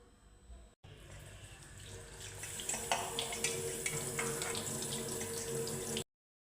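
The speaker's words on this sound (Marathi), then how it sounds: "सर्वात प्रथम ह्या भाजीला स्वच्छ पाण्याने धुवून घ्यायचं आहे" Dill greens are rinsed under a running kitchen tap, a steady splashing gush of water with intermittent clatter and spatter as the leaves are handled, close and moderately loud before cutting off abruptly.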